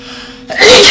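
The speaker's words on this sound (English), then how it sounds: "Doing this made me have to sneeze now." A single sharp human sneeze bursts out close and loud after a brief quiet intake.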